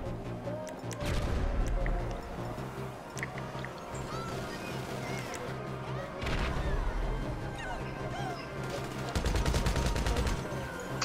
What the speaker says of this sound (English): Oh, they shooting each other.